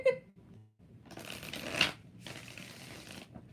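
Tarot cards being shuffled in a live reading, several rapid riffling bursts of papery rustle close to the mic, separated by brief pauses.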